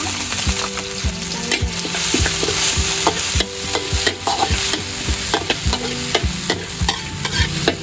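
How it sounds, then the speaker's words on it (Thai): Chopped chili and garlic fry in oil in a wok for a spicy Thai seafood stir-fry, a close, loud, continuous sizzle broken by repeated scraping stirs and clanks of the spatula, with music playing underneath. "ใส่น้ำมันค่ะ แล้วก็ใส่พริกกับกระเทียมที่เราสับนะคะ"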